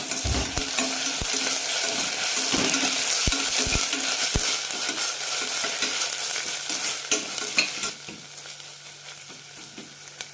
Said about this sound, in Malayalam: ഇഞ്ചി വെളുത്തുള്ളി പേസ്റ്റ് ഇടാം. 2 ടീസ്പൂണാണ് ചേർക്കുന്നത്. നന്നായി മിക്സ് ചെയ്യാം.